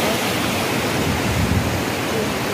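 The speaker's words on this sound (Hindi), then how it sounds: "बहता हुआ झरना" Waterfall pouring down a hillside beside a hilltop ashram and temple, a steady broadband rush of falling water that holds constant and fairly loud throughout with no voices.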